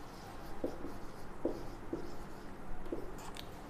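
Chalk or a marker writes on a board during a maths lesson on linear equations, giving a few brief, faint scratchy strokes spaced apart over a quiet classroom background.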